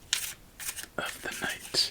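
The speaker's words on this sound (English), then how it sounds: "So let's shuffle up our cards and get ready for our first game" Playing cards are shuffled up close in a quiet ASMR solitaire session, several soft riffling bursts and crisp flutters, with a hushed voice speaking softly at the same time.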